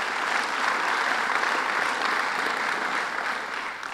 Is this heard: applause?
yes